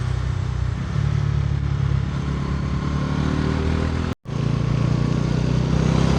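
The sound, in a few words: motorcycle engine riding past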